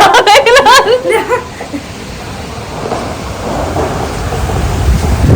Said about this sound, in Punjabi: ਇੰਨੀ ਹਨੇਰੀ ਚੱਲਣ ਡਈ ਆ